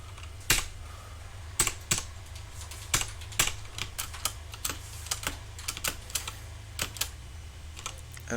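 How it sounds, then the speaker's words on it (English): Slow, spaced-out keyboard typing used as a dialogue text sound for a game character, with isolated clicks landing irregularly about once or twice per second over a low steady hum, clear and close. "This is my guy that has very slow typing."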